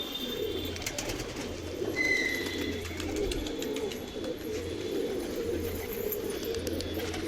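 Fancy pigeons coo in a low, throaty, repeated rumble close by, with a few thin chirps and bird calls above the steady cooing.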